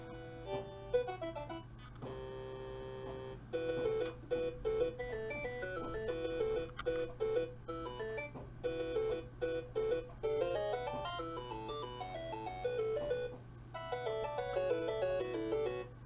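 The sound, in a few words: Commodore 64 game intro music on ArmSID sound chip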